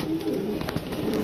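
A pigeon coos softly and repeatedly nearby, low murmuring calls over a steady background hum.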